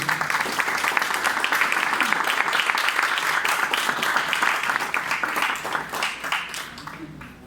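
Audience applause for the day's presenter at an international book fair, a steady wash of many hands clapping at moderate distance that holds for several seconds and then fades.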